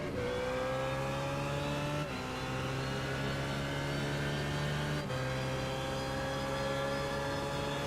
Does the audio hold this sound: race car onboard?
yes